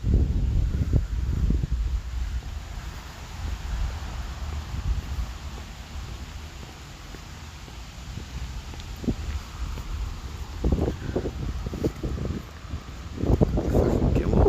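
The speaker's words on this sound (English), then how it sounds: "it's windy out here" Strong gusty wind buffets the microphone in low rumbling bursts, rising and falling outdoors in Cornwall, with no clear speech.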